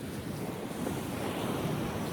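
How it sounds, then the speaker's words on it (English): Ocean surf washes onto a sandy beach shore in a steady, close rush, mixed with buffeting wind on the microphone. "because the waves kept trying to get me"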